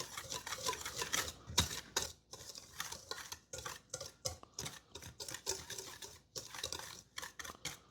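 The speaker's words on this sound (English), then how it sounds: "Let's give this just a whisk." Melted butter, kosher salt and light brown sugar whisked together in a bowl, giving a steady run of quick metal scraping strokes close by, with brief pauses between bursts.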